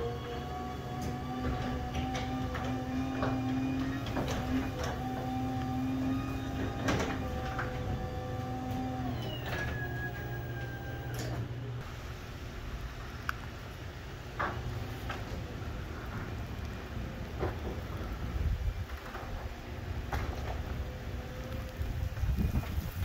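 Chamberlain B4505T opener driving a 16x7 Wayne Dalton 9100 garage door, a steady motor drone with squeaks, clunks and rattling track noise running continuously for the whole stretch at moderate level.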